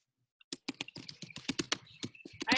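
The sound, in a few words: typing on a computer keyboard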